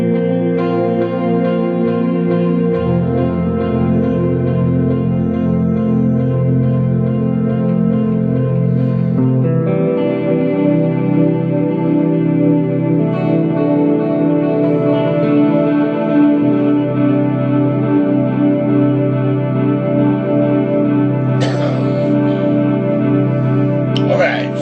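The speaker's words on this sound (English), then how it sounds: "I've got an Eventide H9, and it's on a preset. And with just guitar, it sounds like this." Electric guitar played through a drastic Eventide H9 effects pedal preset, heavily processed with echo, reverb and chorus-like shimmer; sustained, loud chords ring continuously with dense layered tones throughout.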